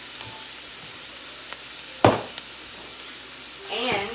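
Onions and garlic sauté in a pan, giving a soft steady sizzle with a sharp clatter near the middle and a brief stirring rustle toward the end; one word is spoken.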